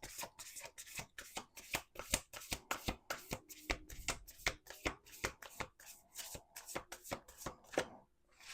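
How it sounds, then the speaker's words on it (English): Oracle cards being shuffled by hand in a quick, steady run of crisp riffling flicks, close and fairly quiet, with a brief pause near the end. "Let's do one more shuffle."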